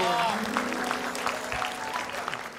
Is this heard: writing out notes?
no